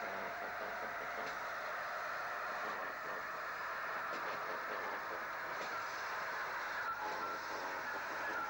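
The GWR Castle-class steam locomotive Hereford Castle hauls a Weston-super-Mare to Swindon train beneath Bath Road Bridge, a steady distant rumble of engine and rolling carriages with no voices.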